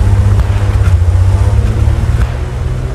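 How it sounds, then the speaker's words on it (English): A Panzer III Luchs tank with an autocannon drives in the World War II video game Squad 44. Its engine makes a loud, steady low rumble with a droning hum that holds for the whole clip. "Panzer 3 is coming in. It's a Lux. It's got an auto cannon on it"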